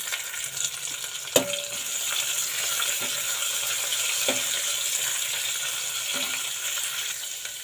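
Green chillies, onion and curry leaves fry in a pan with a steady broadband sizzle, broken by a few sharp stirring clinks and scrapes; no talking.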